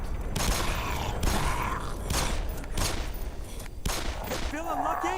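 Gunfire in the sci-fi shooter Black Mesa: several loud bursts of shots stand out against a busy mix of game sound effects, and a voice talks at the same time.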